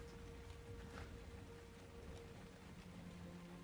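Steady rain in the video game ARK: Survival Ascended, a constant broadband hiss of falling drops that continues evenly without pauses.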